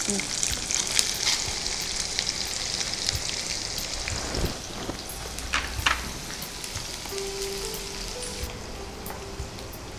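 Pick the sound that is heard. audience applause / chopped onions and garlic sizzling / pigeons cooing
chopped onions and garlic sizzling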